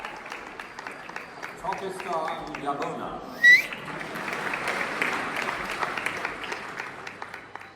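Graduation ceremony applause from a crowd runs steadily, with a man's loud whoops and a sharp whistle rising above it partway through, and an announcer's voice heard early on.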